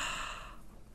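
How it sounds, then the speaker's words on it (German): A deep breath drawn in during a doctor's stethoscope check of a patient with a red throat and slight fever, heard as a single breathy inhale that starts strong and then fades, with no talking. "Tief atmen."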